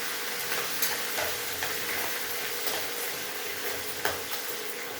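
A tempering of cumin, chana dal, urad dal, curry leaves, peanuts and green chillies fries and sizzles steadily in hot oil, with soft stirring scrapes and small ticks throughout, close and continuous with no talking.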